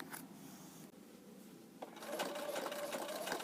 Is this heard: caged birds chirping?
no